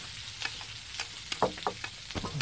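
Fish frying in hot oil in a home kitchen: a steady crackling sizzle with scattered sharp spits and pops, close and fairly quiet, with no voices.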